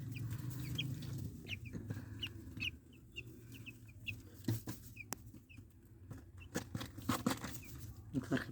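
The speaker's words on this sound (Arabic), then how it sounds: "الفرخ بتاعنا زي ما انتم شايفين كده" White broiler chickens in a poultry house cluck and chirp steadily, a dense flock murmur with repeated short calls and occasional wing flutters, close and alone without talk.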